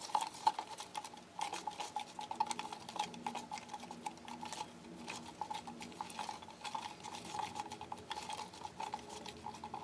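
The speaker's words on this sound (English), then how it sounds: "Okay, and then give it another stir. You want to have it be really well mixed. Make sure again that you scrape the sides." A utensil stirring a resin mixture in a container and scraping its sides, making repeated light clinks, ticks and scrapes in an irregular rhythm, close and fairly quiet with no talking.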